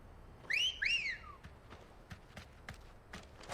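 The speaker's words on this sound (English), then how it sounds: "Why did you wolf whistle?" A rising-falling two-note wolf whistle in the game Final Fantasy XVI, loud and close, followed by soft footstep-like taps and light clopping.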